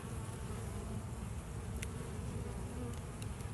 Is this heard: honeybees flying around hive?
yes